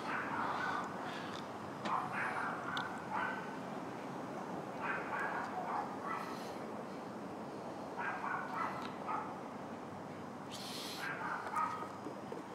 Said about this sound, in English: You guys hear those yappy dogs